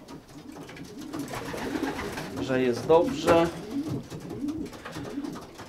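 Pigeons coo in a breeder's loft, a soft, steady murmur of cooing from several birds close by, running under a man's speech.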